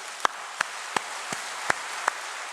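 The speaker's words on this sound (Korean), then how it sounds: "박수해줘요. 박수." A church congregation claps in a slow, even rhythm, about six distinct, separate claps spaced evenly, sounding sparse and hollow against a quiet room with no speech.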